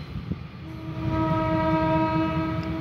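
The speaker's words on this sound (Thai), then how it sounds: "นี่นะมีเสียงวีส่งท้ายนะ" Train 4387 sounds a long sustained horn as it pulls slowly out of Ban Laem station, the blast rising after a second and holding over rumbling rail noise.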